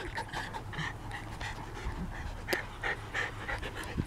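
Several puppies romping and playing together, with quick rhythmic panting breaths and occasional small whimpers, close by and moderately faint, no talking heard.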